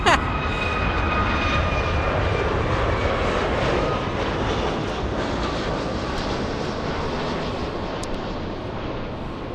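A United Boeing 757 jet arriving at LAX roars steadily and loudly overhead for the whole stretch, a broad continuous engine rumble with a high whine on top.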